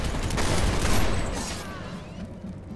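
In the game PlanetSide 2, an NC05 Jackhammer automatic shotgun fires a rapid burst of loud blasts in the first second or so, which then fade into a decaying echo.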